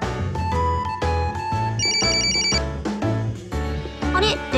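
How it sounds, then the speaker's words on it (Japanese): A telephone ringtone chirps in the BanG Dream! Girls Band Party game, a bright repeated bell-like trill laid over an ongoing music track, fairly loud and close. "あれ、電話だ。"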